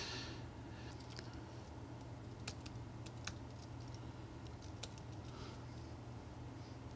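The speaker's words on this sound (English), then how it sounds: "I've typed in the password" A password typed on a computer keyboard, quick light clicks of keys in short irregular bursts over a quiet room hum.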